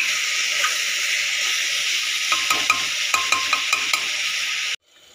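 Mutton fries in a pan under a loud steady hiss, with a run of sharp metal stirring clinks partway through before the sizzle abruptly cuts off.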